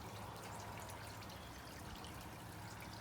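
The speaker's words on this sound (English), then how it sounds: "I'm going to pour a little bit of that in there." Lemon balm infused water pours from a mason jar into a glass, a steady, faint, continuous trickle and splash with no breaks, no voices over it.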